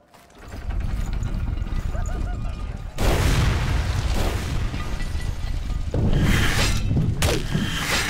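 A bomb blast in the dungeon game Legend of Grimrock 2: a loud, full-bodied boom lands after a quieter rumbling start and is followed by crackling, shattering debris and a second burst near the end, with a voice faintly underneath.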